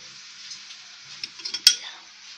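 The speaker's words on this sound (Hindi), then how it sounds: "ये चम्मच से अच्छी तरह हमने इसे मिक्स कर देना है" A spoon stirring flour into biscuit batter in a bowl, a soft, dry swishing with a few light clicks against the bowl and one sharper clink near the end, close and quiet.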